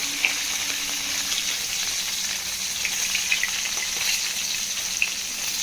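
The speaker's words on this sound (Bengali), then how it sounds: "মাছগুলোকে ভালো করে একটু ভেজে নিচ্ছি" Bhola fish pieces fry in hot oil with a steady, fairly quiet sizzle and occasional small pops and crackles throughout, close up and with no talking.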